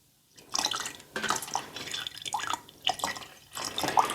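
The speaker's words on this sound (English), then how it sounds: "So while I am pouring this one, those candles are already going to start cooling" Liquid candle wax is poured into candle molds with a trickling, dripping flow. It comes in several close, distinct bursts with short pauses between them, and no talking.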